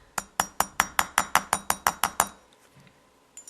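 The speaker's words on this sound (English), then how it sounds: "I'm going to go ahead and give that just a little tap." A rawhide mallet taps a wire earring with about eleven quick, evenly spaced light strikes, bright and close, followed by near-silence and a couple of faint knocks.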